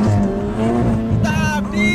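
An Audi TT's engine revs up through a curve with rising whine and tire squeal, loud and close inside the car, with voices talking over it.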